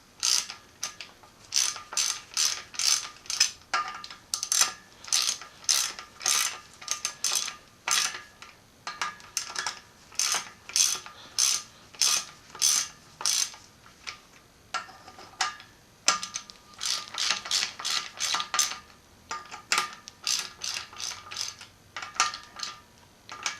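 A ratchet tightens the camshaft bolts on a rally car engine in a garage, clicking in quick bursts of rapid pawl ticks with short pauses between strokes, close and clear with no talking.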